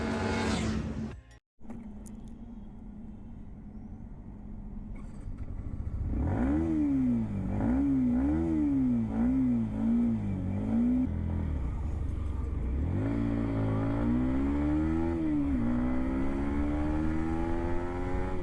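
A Yamaha MT-15 V2 with a 155 cc engine is ridden, its engine note steady and then rising and falling through repeated revs and gear changes, heard close and continuous with no talk.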